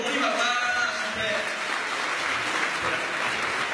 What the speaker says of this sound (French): Quand je suis drôle comme ça, vous applaudissez tous ensemble, les copains, d'accord?